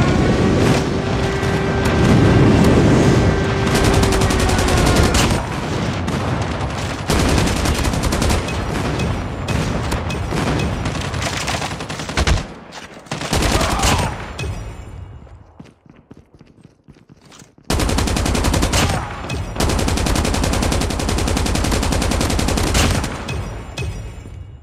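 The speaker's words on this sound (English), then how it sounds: "Friendly airstrike incoming." A friendly airstrike in Call of Duty Mobile brings dense rattling bursts of gunfire and explosions, loud and sustained, dropping away briefly to near quiet before heavy fire resumes.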